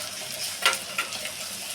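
Onion and green chilli frying in oil, a soft continuous sizzle with a couple of brief crackling pops, heard close and fairly quiet.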